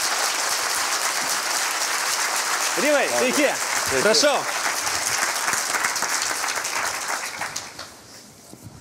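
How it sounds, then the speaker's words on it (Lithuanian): A studio audience gives loud, sustained applause as a guest walks on for a talk show, and a man's brief greeting cuts through the clapping midway. "Pasitikime plojimais"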